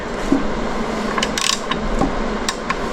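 A bad bearing being turned by hand in a torn-down second-generation Ford 3.5 EcoBoost engine gives a steady, faint, gritty grinding with light ratchety clicks close up.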